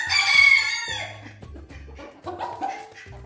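Orpington chickens clucking as they come for fresh greens, a close burst of loud crowing at first followed by a run of low, uneven clucks and murmurs.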